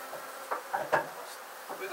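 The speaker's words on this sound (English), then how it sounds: "I'm going to start shaking the bees inside there." Honey bees being shaken from a comb frame into a box during a hive removal, giving a soft insect buzz with a few louder bursts and knocks, fairly close, with no talk.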